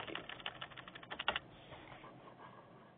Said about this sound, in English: I can remove the data simply by using the backspace key